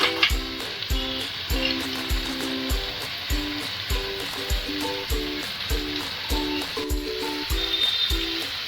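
Chicken curry meat frying in a little oil, a soft sizzling hiss under repeated rhythmic scraping and stirring strokes of a spoon against the pan, with no one speaking.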